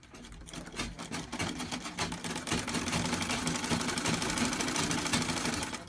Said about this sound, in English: Then you start sewing.